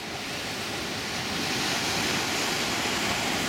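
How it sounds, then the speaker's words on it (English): Big ocean waves and surf breaking at Hanga Roa on Easter Island, a steady broadband roar of crashing water and wash with a wind-like hiss, continuous and fairly loud throughout with no voices. "This is Hangaroa, and there's some big waves, some nice surf."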